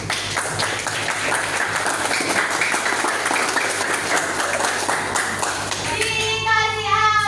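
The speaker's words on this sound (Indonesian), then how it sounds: "Untuk itu kita kasih aplaus untuk semuanya" A school audience at a student council (OSIS) candidate debate claps loudly, a dense, continuous burst of applause that fills the room before thinning out near the end.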